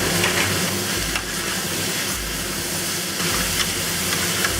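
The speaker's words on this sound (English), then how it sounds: "Want to quickly cook the chives and the green onions." Chives and green onions stir-fried with shredded pork and pressed bean curd in a hot wok give a loud, continuous sizzle and hiss close by, with scraping stirs pulsing through it.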